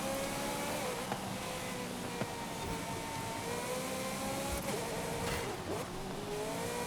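A Honda car at full throttle in Forza Horizon gives a sustained high engine whine that climbs and dips through gear changes, with faint tire noise and brief clicks, heard alone and fairly close.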